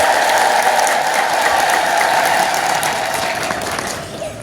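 A church congregation at an Ethiopian Orthodox sermon applauds loudly and steadily, a dense sustained wash of clapping that fades slightly toward the end.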